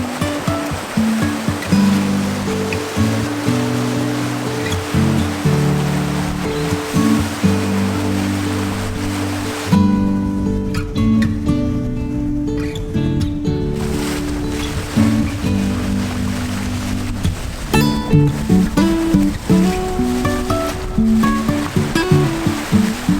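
Water rushes past the hull of a sailboat under sail on the Atlantic Ocean, a loud, continuous surging wash with shifting swells of noise.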